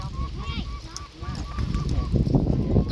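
Ducks honk repeatedly nearby, several calls overlapping in a noisy, busy flock.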